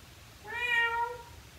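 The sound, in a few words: person imitating cat meow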